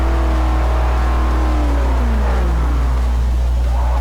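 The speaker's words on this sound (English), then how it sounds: "God, that sounds good. Okay. Twin turbo V8." Twin turbo V8 Camaro in Forza 4 revs hard with a loud, steady drone, its engine pitch sweeping down and climbing again as the car accelerates and shifts, with no talking.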